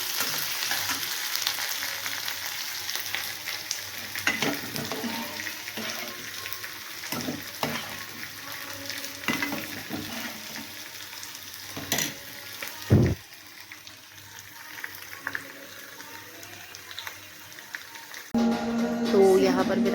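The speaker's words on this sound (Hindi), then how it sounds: "वर्मा जी के टिफ़िन के लिए सब्ज़ी फ्राई करती हूँ।" Vegetables frying in a home-kitchen pan for a lunch tiffin, a steady soft sizzle with occasional stirring clinks, a voice talking over it, louder clatter near the end.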